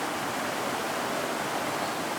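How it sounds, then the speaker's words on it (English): Water pours steadily over a fence weir on the West Twin River, a dense, continuous broadband rush heard close up with no break in the flow. "We're at our West Twin River at our fence weir."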